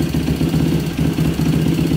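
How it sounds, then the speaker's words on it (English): Yamaha YFZ450 quad engine idles steadily and loudly up close, a rough, throbbing mid-pitched thrum; no distinct backfire pop stands out. "It idles perfectly, but you can hear the backfire."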